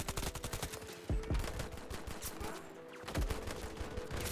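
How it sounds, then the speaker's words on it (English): Rapid bursts of suppressed M1911 pistol fire in Battlefield 2042, loud and close, arriving in quick clustered shots with brief pauses, layered over game ambience. "as soon as I started to shoot with the M1911, they noticed"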